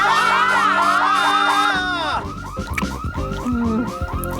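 A small home security system alarm goes off after a button is pressed, a loud warbling electronic wail that rises and falls, joined partway through by background shouting and a busier, choppier texture of tones.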